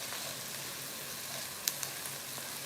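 Onions frying in a pan for a large batch of marinara sauce, a steady soft hiss and sizzle with a couple of faint pops and clinks.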